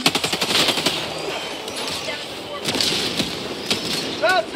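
Gunfire from a hard-kicking gun in Helldivers 2: rapid bursts of automatic shots, loud and close, with breaks between volleys and a voice talking over parts of it.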